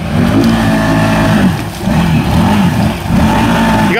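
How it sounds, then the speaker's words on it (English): An off-road vehicle in two-wheel drive revs loudly and close, its engine note rising and falling in repeated surges over about four seconds, with no talk. "Hey Sean, see if you can put her two-wheel drive and pirouette it around"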